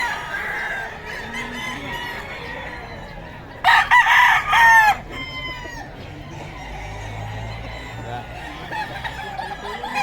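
Silver gray gamecock rooster crowing: one loud, close crow lasting about a second midway through, with quieter clucking and background chatter around it.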